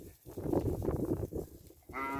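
Beef cattle from a large free-grazing herd, with shuffling and low grunting noises before a single clear, drawn-out moo near the end.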